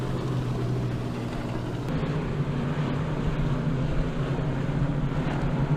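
Race car engines at Humberstone Speedway, a steady low drone of several motors held at high revs, continuous and moderately loud with wind noise, as the field builds speed for a restart.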